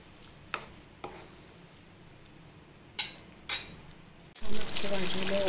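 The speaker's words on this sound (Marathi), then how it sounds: "आपण आता छान उकळी येऊ द्यायची" Salty brinjal gravy with green masala simmers in a pan, a few sharp spoon knocks against the rim landing over quiet bubbling, then a louder burst of stirring and sizzle near the end.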